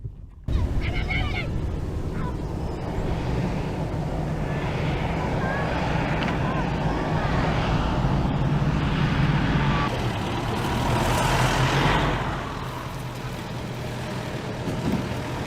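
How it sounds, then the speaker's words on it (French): Several rally cars roar steadily on a sandy desert track in Senegal between Lac Rose and Lompoul, their engines loud and continuous with wind buffeting the microphone and a voice speaking over the noise. "il reste 3 voitures qui arrivent sur nous"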